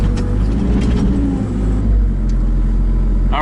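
A Kubota KX121-3 mini excavator's engine revs hard at high RPM under full power while working a deep boulder, producing a loud, steady, close diesel roar with a heavy low rumble throughout.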